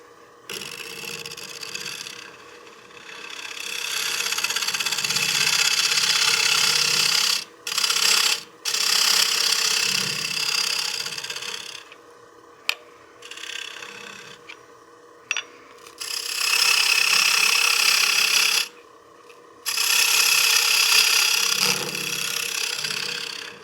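A wood lathe spins a cake stand blank while a cutting tool scrapes in long rasping passes that stop and start, with quieter motor hum in the gaps and no talk.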